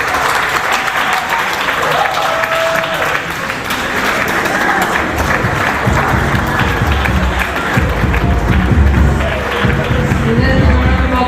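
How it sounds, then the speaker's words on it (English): An audience at a young lawyers' forum claps in sustained applause, a dense, loud wash of hands that runs unbroken, with some murmuring and voices mixed underneath. "Let's give a round of applause, please."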